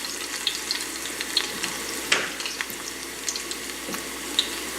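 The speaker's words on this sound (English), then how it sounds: "fry this. I just want to infuse the oil with the ingredients." Ingredients are heated gently in oil to infuse it, a soft steady sizzle with scattered small pops and a few light clinks of stirring, close by and with no voices.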